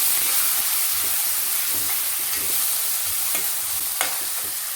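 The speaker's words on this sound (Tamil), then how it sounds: "இது கூட பச்சை பட்டாணி ஒரு 300 கிராம் அளவுக்கு சேர்த்துக்கிறேன். லைட்டாக வதக்கிக்கிறணும்." Green peas being sautéed in oil and stirred in a pan while making a paneer gravy, a constant close sizzling hiss with faint scraping stir strokes, no talking.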